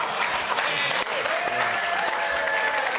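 Hands clap steadily during a studio sports talk show about the Brisbane Broncos NRL team, a dense continuous patter with no gaps for about three seconds.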